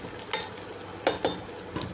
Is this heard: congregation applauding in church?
no